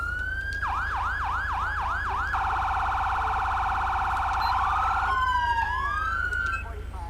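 An electronic police siren in Grand Theft Auto V runs through modes: a fast whooping yelp, a steady high wail tone, then rising and falling sweeps, loud and continuous over a constant low hum.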